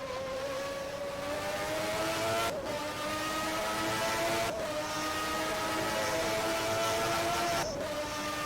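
A race car accelerates flat out down the straight in a racing video game at the French GP, its engine screaming loudly and steadily. Three brief cuts mark rapid upshifts, each followed by the pitch climbing again.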